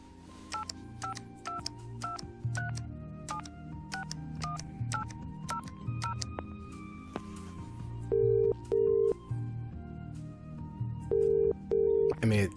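Telephone sounds in the video game Shenmue III: a run of DTMF dialing tones with faint music beneath, followed by repeated loud beeping tones of a phone line, pulsing in pairs.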